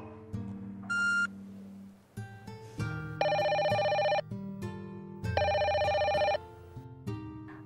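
A telephone rings unanswered, its electronic ringtone sounding in loud repeated bursts of warbling tones separated by short pauses, over a steady low background hum, with no one picking up.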